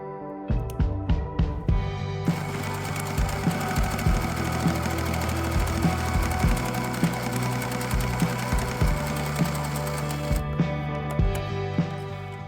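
Sewing machine stitching fabric for a cactus pin cushion, a few short start-up bursts of needle clatter, then one long, loud, steady run of rapid stitching before it slows and stops with brief final taps.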